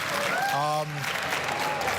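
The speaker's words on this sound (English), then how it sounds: "please give him a round of applause" An audience at a CrimeCon true-crime convention session claps in a loud, dense burst of applause while a voice speaks over it.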